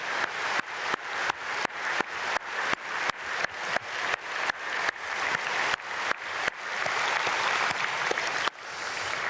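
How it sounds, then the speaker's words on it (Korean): A church congregation claps together after a family is blessed during a dawn prayer service, steady broadband applause that builds into a dense, sustained roar across the whole stretch with no talking. "우리 박수로 축복하겠습니다"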